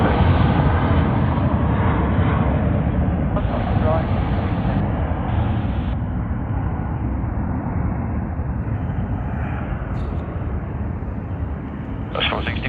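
Qantas flight QF461, Sydney to Melbourne, at Sydney Airport gives a loud, steady low rumbling jet roar throughout, while a person talks over it.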